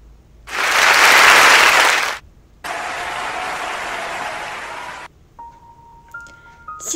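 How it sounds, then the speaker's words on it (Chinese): An audience claps in a loud burst of applause lasting under two seconds, followed by a lower, steadier round of clapping. A short electronic tone sounds at the end. "谢谢大家的鼓掌"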